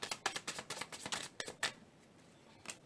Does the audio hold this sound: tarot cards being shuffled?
yes